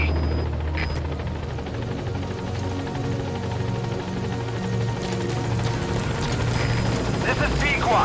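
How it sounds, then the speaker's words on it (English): Support helicopter Pequod arriving in the video game Metal Gear Solid 5, a steady loud rotor thrum and engine drone filling the whole stretch, with radio voices over it. "Support helicopter has arrived."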